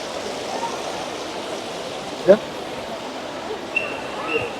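Water splashing in the Trevi Fountain in Rome, a steady broad rushing wash heard from a short distance, with a crowd murmuring faintly and one brief sharp sound standing out.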